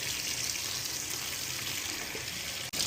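Water running and splashing steadily as new fish are rinsed in a bath until the water clears, a constant hissing rush with a brief cutoff near the end.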